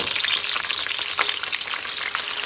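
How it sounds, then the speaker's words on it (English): Green beans frying in hot oil, a steady bright sizzle and crackle with small pops, close and fairly loud, continuing without pause. "So we only fry it for a minute."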